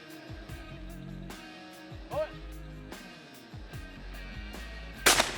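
Shotgun blasts at sporting clays targets during a men's top-eight competition, several sharp reports spread through the stretch while a commentator talks over them.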